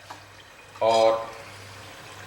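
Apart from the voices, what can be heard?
water poured into fried mutton korma masala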